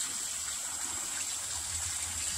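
Steady running water while washing glutinous rice in a home kitchen, a continuous close hiss and trickle with no talking.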